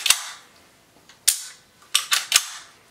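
Krytac LVOA airsoft rifle mechanism firing sharp, close snapping shots, one at the start, another a second later, then a quick burst of three near the end.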